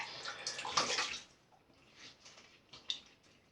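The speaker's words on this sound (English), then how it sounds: "Just going to drain my sink" Water drains from a bathroom sink after shaving, a gurgling, splashing rush up close that fades into soft trickles and a few drips.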